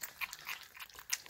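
A puppy from a young litter eats food, giving soft, irregular crunching and chewing bites close by over about a second, with no talking.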